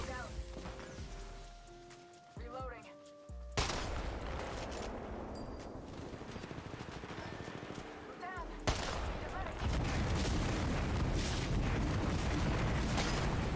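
Gunfire in Apex Legends Mobile, with dense, loud bursts of shots in rapid succession after a brief quieter opening, mixed with game effects while a player talks over the action.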